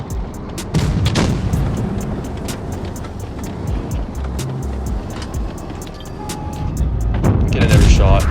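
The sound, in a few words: tank shells firing in World of Tanks Blitz video game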